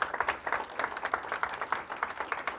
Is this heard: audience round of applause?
yes